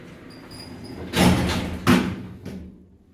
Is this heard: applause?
no